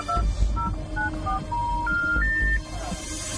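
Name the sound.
telephone dialing a number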